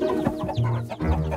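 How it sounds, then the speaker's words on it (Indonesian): Cartoon chickens cluck in a busy, overlapping run of short squawks, loud and close, with no talk over them. "Ada apa dengan ayam kecilmu?"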